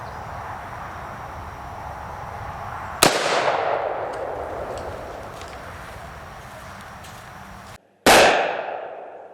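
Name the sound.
223 rifle shot hitting oil-hardened steel armor plate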